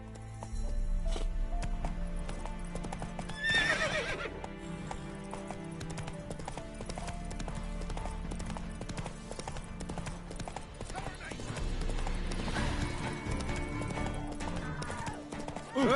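Rhythmic clip-clop of hooves on a hard surface, steady and moderately close, with a horse whinny partway through and people talking underneath.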